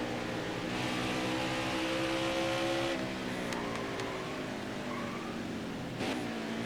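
A race truck in NASCAR Heat 5, a Canadian Tire truck race in Florida, accelerates out of pit road with a loud, steady engine drone whose pitch climbs through the gears, close and without talk.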